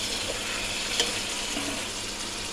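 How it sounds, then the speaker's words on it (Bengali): Fish pieces frying with spices in a pan for a village-style fish curry, a steady close sizzle with a few light stirring clicks, no voices. "সবগুলো মাছ দিয়ে সুন্দর করে এখন একটু ওলট পালট করে দিয়ে দেবো এবং সুন্দর করে মাছগুলো ভাজা ভাজা করে নিতে হবে"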